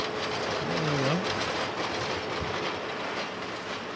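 A holiday train rolls past on rails close by, a steady broadband rumble with a brief wheel squeal early on, no talking over it.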